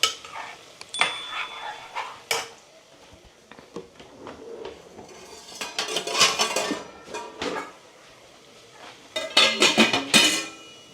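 Spoon scraping and clinking against a metal pot while spices are mixed over a very low flame for a bottle gourd and lentil dish, irregular close clatters in bursts with quiet gaps between them.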